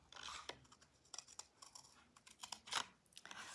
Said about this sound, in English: So I'm just going to come and cut this one out while we're doing it.